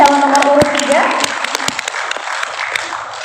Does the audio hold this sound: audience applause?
yes